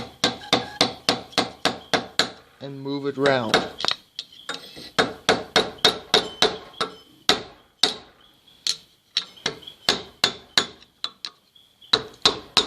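Sharp, regular metallic taps of a hammer driving a screwdriver against a wheel bearing on a Massey Ferguson 240 tractor, close and steady with brief pauses, someone speaking briefly in between.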